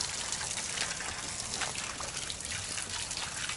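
Water trickling and splashing as it is poured into an old tire on a rural property, a steady broadband stream close by with no talk over it.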